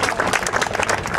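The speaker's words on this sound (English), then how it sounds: "Let's give a round of applause to the real star here, the boat, the New York Water Taxi." Dense audience applause at an outdoor New York ferry event, steady, close clapping filling the whole moment, with no talk.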